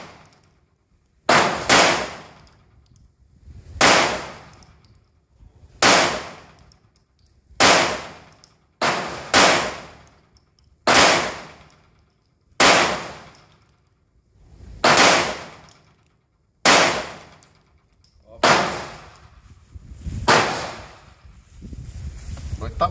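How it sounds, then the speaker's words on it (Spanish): Ten slow, evenly spaced pistol shots from a Sig Sauer P226 X5 Legion ring out close and loud at an outdoor range, each sharp crack decaying before the next, with occasional speech between them. "vamos a disparar 10 tiros sin prisa"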